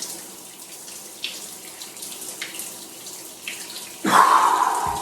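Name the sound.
icy cold shower water running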